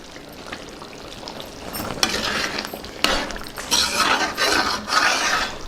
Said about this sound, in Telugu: ఒకసారి బాగా కలుపుకుందాం ఇప్పుడు కొద్దిగా కొత్తిమీర వేసుకుందాం